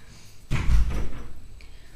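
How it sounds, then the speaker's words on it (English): An indoor door swings shut with one solid thud and a short rattle, fairly close, then the room goes quiet. "Do you want to shut the door for me?"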